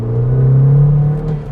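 Modified VW Golf GTI Mk7 engine idling and revving up close, a steady deep rumbling exhaust drone that rises slightly and settles, alone with no talk.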